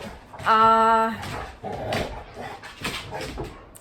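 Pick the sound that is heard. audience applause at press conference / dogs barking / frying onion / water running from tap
dogs barking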